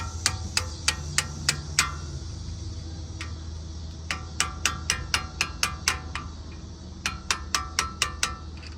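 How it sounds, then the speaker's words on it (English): A hammer taps a screwdriver against brake parts on a 370z, sharp metallic ticks in quick bursts of about five, a lone tap, then longer runs of evenly spaced strikes over a low background hum. "put it in there, and then tap it with a hammer"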